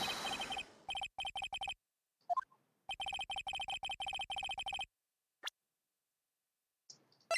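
Phone ringing in the Phoenix Wright: Ace Attorney video game: two bursts of rapid electronic trills, each a quick run of short rings, clear and close with silent gaps between, then a faint blip and a brief soft sound at the end.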